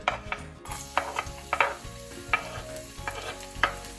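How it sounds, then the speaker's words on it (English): Ginger and garlic fry in hot oil in a wok for a restaurant-style chilli prawn starter, a steady sizzle broken by a spatula stirring and scraping every second or so, close and clear with no voices. "Once the oil is hot, we'll start with the ginger and the garlic"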